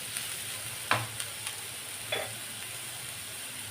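Onions softening in hot oil for egg bhurji, a faint steady sizzle under a few sharp scrapes and taps of a spoon stirring the pan, with no talk.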